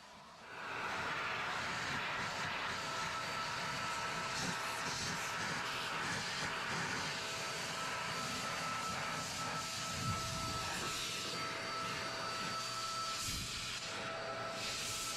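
An Adams handheld mini air cannon blowing debris around a car interior: a steady, loud rushing hiss of air that starts within the first second and holds constant for the rest, with faint rustles of junk underneath.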